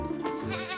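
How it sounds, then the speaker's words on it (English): Goat bleating in a cartoon alphabet setting: one short, wavering, nasal bleat, close and clear, with no talk over it. "G for goat"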